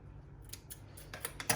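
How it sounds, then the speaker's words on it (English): Scissors snip fresh basil leaves for a dish finished with elderflower vinaigrette, giving several quick, crisp, close cuts in an uneven rhythm against a quiet background, with a sharper snip at the end. "Snip a few leaves of basil."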